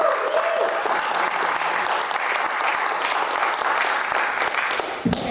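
Steady, loud audience applause at a film festival panel, a dense wall of clapping that carries on evenly before tapering near the end, with a little crowd noise mixed in.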